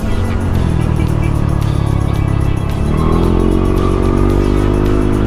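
Yamaha NMAX V2 scooter ridden on a drizzly road in Pangasinan, with a steady loud engine drone and rushing wind noise throughout, the engine tone rising slightly partway through.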